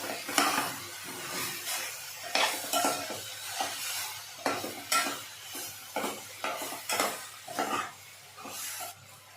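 Chopped spinach frying with vegetables for dalia khichdi, stirred with a utensil scraping the pan in repeated bursts over a constant sizzle, close and moderately loud with no talk.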